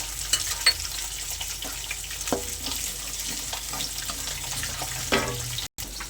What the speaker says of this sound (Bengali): এদিকে আমি মাছগুলো ভাজতে বসিয়ে দিলাম